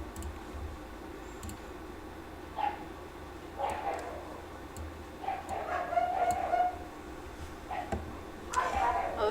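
Neighbouring dogs bark in short scattered bursts from a moderate distance, rising and falling over a steady background hum, with a few sharper yips toward the end.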